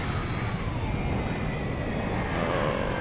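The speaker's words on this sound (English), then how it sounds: "Plane's coming down." A fixed-wing plane descends in Grand Theft Auto 5, its jet engine roaring loud and steady throughout with a broad rushing drone and no voices.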